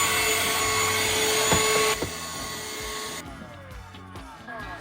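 A small handheld Shark vacuum whines steadily and loudly up close, then cuts off partway through, leaving quieter clicks and handling noise.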